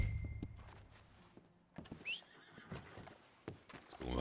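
A horse in Red Dead Redemption 2 gives a clear rising whinny amid hoof clip-clops and a few dull thunks, with quiet gaps between.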